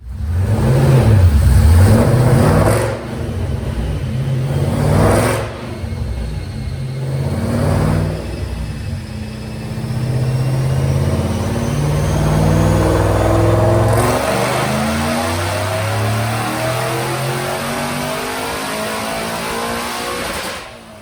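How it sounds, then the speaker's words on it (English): A 2013 Shelby GT500 with a cam install and Detroit rockers roars through a chassis dyno pull, its engine revving hard in rising surges that climb steadily in pitch and hold loud and close, with no talking. "Let's watch this dyno pull."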